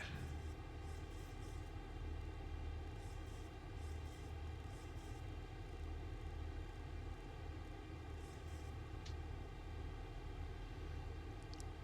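A FedEx airliner climbing after takeoff in X-Plane 11 from Greensboro, a loud continuous engine roar with a deep rumble and a steady whining tone, unbroken for the whole stretch with no talk.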